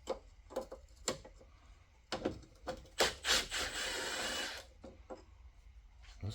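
A wrench works loose the 17mm lower control arm bolts on a Mazda RX-7, with faint scattered clicks and a longer, louder ratcheting rasp in the middle.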